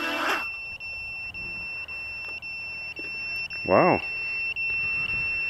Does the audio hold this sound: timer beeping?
yes